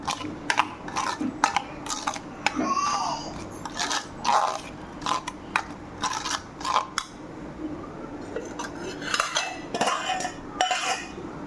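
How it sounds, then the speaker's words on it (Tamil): Turmeric and garam masala being stirred into paneer gravy with whole small onions in a pan, a metal spoon scraping and clinking against the pan in quick irregular bursts, close and fairly loud, with no talking. "தேவையான மஞ்சத்தூள், தேவையான கரம் மசாலா போட்டு இதெல்லாம் கலந்துடும் நல்லா."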